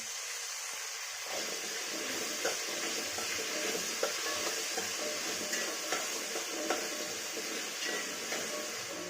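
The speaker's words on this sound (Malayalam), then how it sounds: "ഉള്ളി ഉപ്പിട്ട് വഴറ്റിയാൽ പെട്ടെന്ന് വാടും കേട്ടോ" Onions sautéed with salt in a pan give a soft, continuous sizzle with frequent scraping stirs of a spoon, fairly close and steady, after a brief quieter start.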